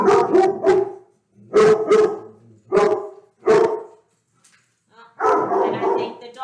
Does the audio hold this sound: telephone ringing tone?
no